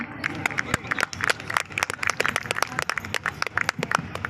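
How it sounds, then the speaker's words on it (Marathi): A crowd claps loudly and continuously, a dense burst of applause filling the whole moment. "जोरदार टाळ्या होऊन जातात"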